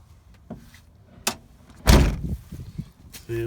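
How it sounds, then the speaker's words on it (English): Door of a 1988 Land Rover Defender 127/130 slammed shut, one loud solid thud after a few lighter handle clicks and rattles, close by, followed by brief low rumbling. "You gotta slam it a little harder."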